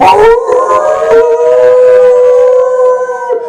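An audience at a poetry jam in a Santa Fe café howls together, a loud crowd of voices imitating a wolf howl in one long sustained chorus.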